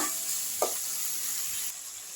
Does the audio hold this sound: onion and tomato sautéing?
yes